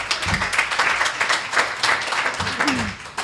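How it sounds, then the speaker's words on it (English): Applause from an audience at a tourism marketing conference session, a steady wash of many hands clapping throughout, fairly loud and close, with a brief voice near the end. "Big round of applause."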